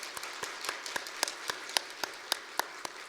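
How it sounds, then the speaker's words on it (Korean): A church congregation claps in a quiet, steady rhythm, soft evenly spaced handclaps heard from some distance without any talk. "우리 박수로 함께 축복해 주시기 바랍니다"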